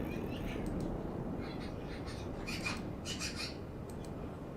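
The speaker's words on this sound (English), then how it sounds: "I don't know if you guys can hear that squawking noise out there, but those are the magpies." Magpies squawk from a tree outdoors, several harsh calls scattered through the clip and rising faintly over a steady broadband background hiss, with no voices.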